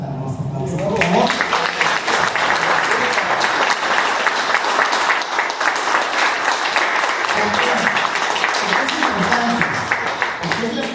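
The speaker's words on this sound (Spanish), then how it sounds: "al cual pido un caluroso aplauso, por favor" A warm round of applause from an audience at a Mexican voting event, dense sustained clapping that swells quickly and carries on steadily for several seconds.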